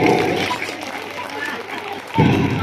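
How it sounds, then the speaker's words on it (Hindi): Students at a school self-defence session give a short burst of clapping for a volunteer, the brief applause mixed with a voice talking over and after it. "ताली बजाइए भाई साहब के लिए"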